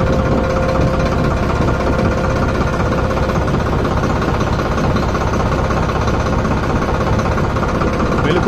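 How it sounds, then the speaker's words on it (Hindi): A Farmtrac 60 tractor engine idles steadily up close, a continuous loud, even diesel chug throughout. "हाँ भाई ट्रैक्टर स्टार्ट करो।"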